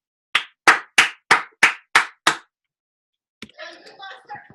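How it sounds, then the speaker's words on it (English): Seven sharp, evenly spaced hand claps ring out in quick succession from a forum for Democratic congressional candidates, followed after a short pause by faint murmuring voices. "See those claps?"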